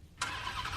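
A car engine cranks and catches in one quick burst, then holds a steady mid-pitched run, clipped short as a radio news jingle sting.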